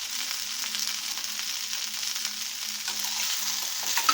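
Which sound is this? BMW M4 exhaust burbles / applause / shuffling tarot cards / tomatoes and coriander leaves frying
tomatoes and coriander leaves frying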